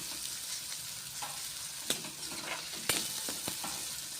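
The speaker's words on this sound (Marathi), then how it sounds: "आपल्याला हे गुलाबी सरंगावर कांदा परतून घ्यायचा आहे" Sliced onion sautés in a pan until pink for a ridge gourd bharit, giving a soft steady sizzle broken by a few sharp spoon clicks against the pan.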